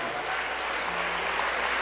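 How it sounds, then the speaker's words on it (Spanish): A church congregation applauds during a Spanish-language Sunday sermon, a dense, steady wash of clapping that holds evenly for about two seconds with no voices. "Dele un aplauso al Señor con todo su corazón."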